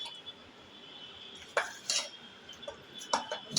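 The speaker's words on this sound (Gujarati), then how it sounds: "અહીંયા આપણે થોડો લોટ પહેલાં નાખીએ અને હલાવતા જઈશું" A spoon stirs flour into batter for malpua sweetened with jaggery, giving a few sharp clinks and scrapes against a metal bowl at irregular intervals over a quiet background.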